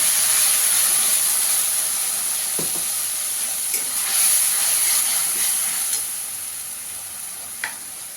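Mustard and poppy seed paste goes into a hot pan for a bhola fish curry and sizzles loudly with a steady, bright hiss. A few faint scrapes and clicks from stirring sit under it, and no one speaks.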